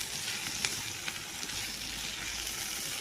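Leafy greens seasoned with salt and turmeric sizzle steadily as they are stir-fried in a pan, a close, even hiss with a few faint spoon taps and no talking.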